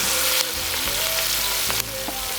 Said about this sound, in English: the pot for my cabbage is hot too, so I'm gonna dump that in there